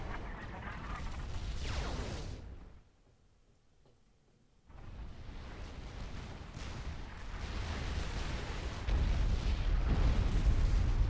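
Units fire in a Supreme Commander 2 1v1 match on Venus Forge, a continuous barrage of booming artillery and explosions that drops out briefly, then resumes heavier and louder.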